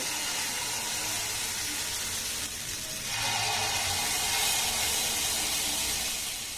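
Palm-fruit pitha frying in a little oil, a soft continuous hiss and sizzle with a brief dip midway before swelling slightly louder, close by with no voices.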